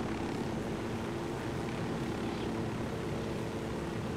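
Helicopter in the Ghost Recon video game, a steady, loud rotor and engine drone with low throbbing that holds evenly throughout, with no talk over it.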